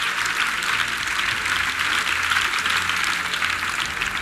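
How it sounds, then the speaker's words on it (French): A congregation at a salvation and healing weekend service in Yopougon claps in a dense, even roar of hands that continues unbroken and fairly loud. "Acclamation."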